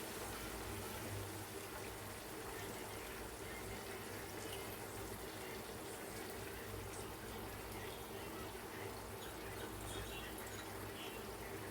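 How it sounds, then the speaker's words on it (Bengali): Sauce paste made with lemon juice in place of vinegar is poured into a cooking pan for a spicy chili soya curry, giving a steady, soft wet rush with a constant low hum behind it. "এই সসের পেস্টটা আমি এবার এর মধ্যে ঢেলে দেবো।"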